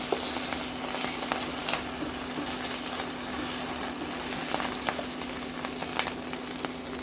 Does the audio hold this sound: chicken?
yes